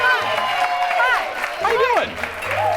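Studio audience applause and cheers on a talk show as a guest is welcomed, a steady crowd sound under excited voices, with a brief spoken greeting mixed in.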